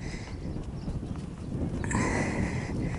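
Green horse moving under a rider in an arena, hooves clip-clopping in a steady walking rhythm close by over a rumbling low background, growing slightly louder toward the end.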